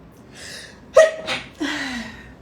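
A woman sneezes indoors in a chilly room after a shower: a sharp, loud burst with a preceding gasp, followed by breathy exhalations, all close to the listener and otherwise quiet.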